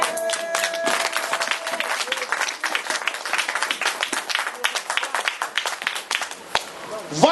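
Congregation at a church service breaking into dense, sustained applause, a steady wash of many hands clapping that holds for several seconds before thinning slightly at the end.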